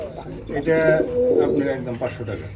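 Pigeons coo in low, throaty murmurs close by at a pigeon sale, overlapping with a voice and background chatter.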